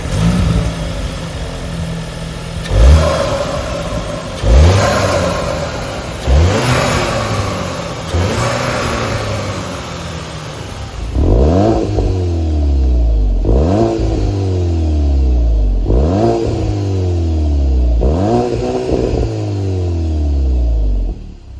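A 2024 VW Golf GTI with manual transmission revved repeatedly, each blip climbing sharply then falling back to idle, about eight loud close revs in steady rhythm, with no talking.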